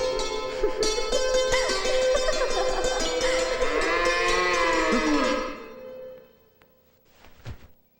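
A cow lets out a long, loud, close moo that holds for several seconds before fading, followed by a brief quieter rustle; no one speaks.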